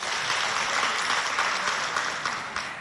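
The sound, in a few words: audience applauding the jury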